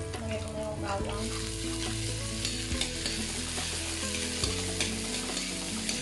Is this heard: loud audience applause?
no